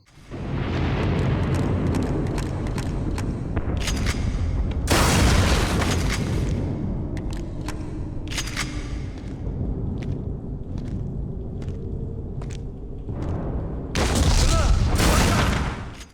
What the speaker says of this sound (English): I maneuver around them by blasting a new path with my shotgun